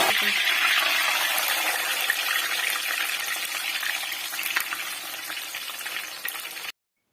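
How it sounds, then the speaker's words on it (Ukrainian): Chebureki deep-fry in hot oil with a loud, dense, steady hiss and bubbling that holds for several seconds, then cuts off abruptly to silence. "І так виробляю і обсмажую решту чебуреки."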